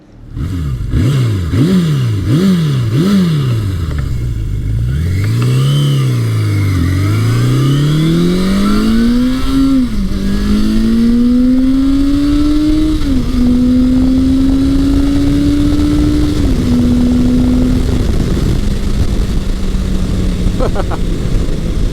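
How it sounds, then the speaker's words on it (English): A 1982 Suzuki GS750E motorcycle on a test ride, its engine revving up and down at first, then pulling hard through the gears with rising pitch between shifts, loud and close throughout. "The bike pulls hard."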